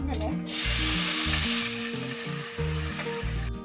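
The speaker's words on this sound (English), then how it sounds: "Now saute the onion until it's light brown." Onions sizzle loudly in hot oil with cumin seeds, a bright continuous frying hiss that flares up right after they hit the pan, with low background music underneath.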